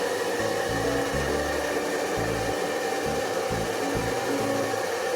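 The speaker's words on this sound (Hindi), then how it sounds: "वहाँ पे हम हॉट हेयर ड्रायर मारेंगे। मेरा हेयर ड्रायर बहुत ही ज़्यादा गर्म होता है तो मैं मीडियम पे रखूँगी।" A hot hair dryer set on medium blows with a steady, fairly loud whooshing drone, its motor tone wavering slightly as it moves, with no voices over it.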